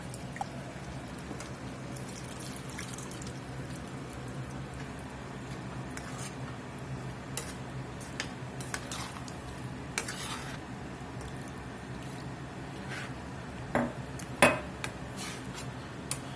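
A spoon stirs a cornstarch mixture for a saucy chili mac, a steady close scraping swirl over a low kitchen hum, with scattered light clinks against the container and a few sharper taps near the end; no one speaks.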